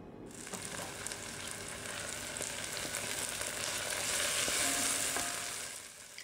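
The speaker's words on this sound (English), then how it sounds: "Checking back on the onions. Now we're going to make sure that they're sizzling." Diced onions sizzle steadily in a hot pan for a ratatouille, a dense, even crackle and hiss that swells slightly toward the end, close and alone with no voices.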